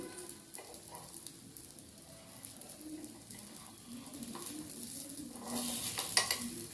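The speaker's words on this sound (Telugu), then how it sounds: "ఇట్లా తిప్పేసుకోవాలండి. 2 పక్కల ఫ్రై చేసేసుకోవాలి." Egg ponganalu fry in oil in a pan, giving a quiet, steady sizzle with occasional soft clinks of a utensil, growing slightly louder toward the end.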